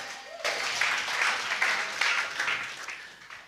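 A church congregation breaks into applause acclaiming God, a broad wash of many hands clapping that swells after a brief spoken line and holds steady, moderately loud and roomy.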